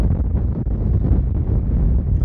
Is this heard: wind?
yes